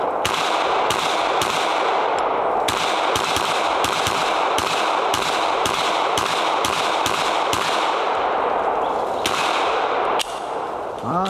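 A rapid series of Canik and SAR USA pistol gunshots cracks out at a range, around a dozen sharp reports in quick succession over steady background noise, fairly loud and close.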